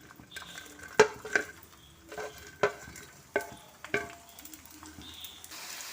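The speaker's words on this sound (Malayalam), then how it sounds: "ഇത് ഒന്നും കൂടി നമുക്കൊന്ന് ഫ്രൈ ചെയ്തെടുക്കാം" Fried cauliflower pieces for Gobi Manchurian go back into hot oil for a second fry, giving a low sizzle broken by several sharp knocks and clatters of a metal spoon against the pan, close by with no talking.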